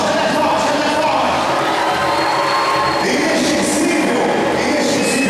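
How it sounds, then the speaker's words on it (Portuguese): Audience applauding and cheering at a management showcase event, a loud, dense and continuous wash of clapping with crowd noise that holds steady for about five seconds. "Salve de palmas pra vocês."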